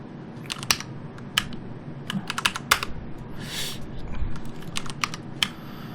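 Fingers type on a computer keyboard in bursts of crisp, uneven clicks, some sharper keystrokes standing out over a low room hum, with no talking.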